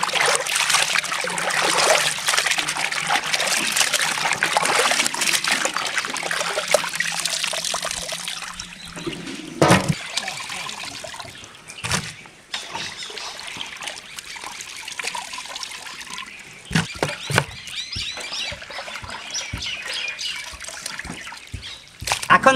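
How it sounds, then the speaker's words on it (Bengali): Raw chicken meat being rinsed under water for a village chicken curry, with steady close trickling and splashing that runs continuously, breaks off briefly, then resumes in shorter bursts. "মাংসটাকে সুন্দর করে ধুয়ে নেব।"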